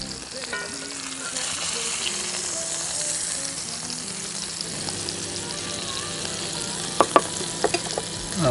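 Ribeye steak sizzling in butter in a pan, a steady close frying hiss throughout with a few sharp pops and crackles near the end, no talking.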